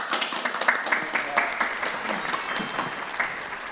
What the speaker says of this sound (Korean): 일단 여기서 한번 박수 한번 치고요